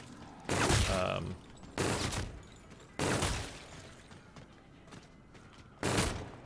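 Gunshots fired at the wheel in Call of Duty Zombies, four separate loud blasts spaced about a second or more apart, each with a short rumbling tail, over quiet game ambience.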